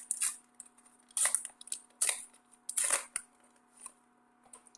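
Trading card booster pack being torn open by hand, a series of short crinkly rips and foil crackles in bursts separated by brief pauses, close and fairly quiet.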